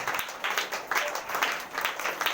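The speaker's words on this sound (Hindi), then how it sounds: "और विश्वास में ताली बजाए परमेश्वर की महिमा करे।" A church congregation at Sunday prayer claps in a steady rhythmic beat, loud and continuous, with the claps blending into a dense applause texture.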